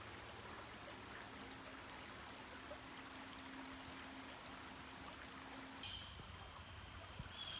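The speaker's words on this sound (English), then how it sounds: "We're at the Platte River here." The Platte River in Michigan, just downstream of the outflow creek from Lower Woodcock Lake, flows with a soft, steady trickling wash, faint and continuous, with a low hum and no voices.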